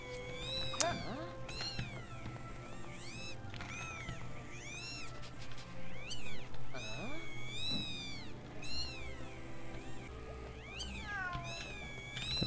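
A cat meows repeatedly in the LEGO Harry Potter video game, a series of rising-and-falling mewing calls over a low steady game background hum.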